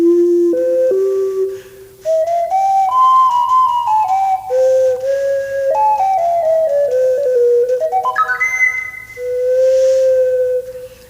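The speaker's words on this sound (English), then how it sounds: "here's one sound where the breath pressure actually affects the pitch." A breathy synthesized wind tone from an Akai EWI/EVI wind synthesizer plays a melody whose pitch bends with breath pressure, sliding between notes, sustained and close, with a brief pause near the middle.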